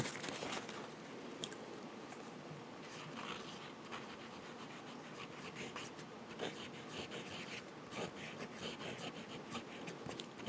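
A fountain pen with a 14K gold medium nib writes on paper in a Moleskine journal, giving a steady, soft scratchy stroke sound with small pen lifts, close and quiet throughout.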